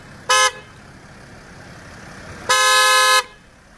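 Upgraded Mercedes horn fitted to a Winnebago Revel camper van sounds two bright honks, a quick short toot then a longer blast, loud and close over faint background hiss.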